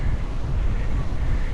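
Strong wind buffets the microphone on a very windy beach during an off-road cycle race, a loud, steady low roar with no pauses.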